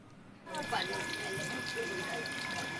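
Water is poured steadily onto a plant, a continuous splashing gush that starts suddenly and runs close and fairly loud, with voices talking over it.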